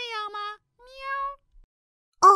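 A person imitates a cat, giving two drawn-out, tonal meows close to the mic, then a short sharp third cry after a pause, each clear and alone with no other talk.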